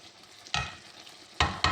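Chicken paella cooks in a pan. A soft low sizzle is broken by three sharp, close stirring scrapes, one alone and then two in quick succession, with no talking.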